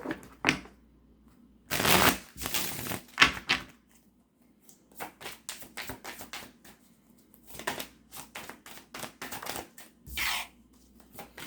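Tarot cards being shuffled in quick riffling bursts, with short pauses and soft handling sounds between them, close by and quiet.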